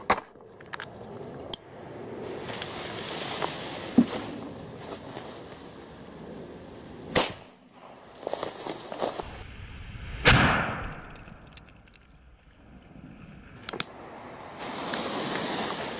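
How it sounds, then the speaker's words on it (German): Harzer Knaller firecrackers from the Silberhütte go off outdoors, with a few sharp cracks, one loud bang followed by a fading rumble, and faint hiss between the blasts. "die schönen Harzer Knaller aus der Silberhütte"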